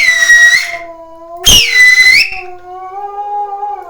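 A person imitates a Gujarati herder's whistle for calling goats: two loud, piercing whistled calls with a bright, bending pitch, then a softer sustained tone trailing off.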